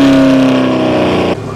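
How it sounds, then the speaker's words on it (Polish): Loud, close roar of a 1000-horsepower Corvette engine, a steady rich drone that drops off abruptly near the end of the short burst, with no talking. "Zapomniałem, że te korwety są takie głośne."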